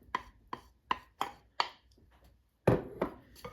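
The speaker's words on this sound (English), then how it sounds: "I'm going to crush these biscuits" Shortbread biscuits being crushed with a series of sharp, rhythmic thuds and crunches, about eight distinct hits at roughly even intervals with a pause before the last heavier blows, close and fairly quiet.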